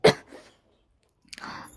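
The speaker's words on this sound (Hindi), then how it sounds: "खांसी मेरे को सच में हुआ।" A single sharp cough bursts out at the start, followed by a brief quieter catch of breath, then a pause before soft rustling and murmuring close to the microphone.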